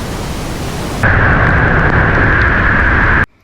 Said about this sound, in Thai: เดี๋ยวให้ฟังเสียงธรรมชาติน้ำตกฟิน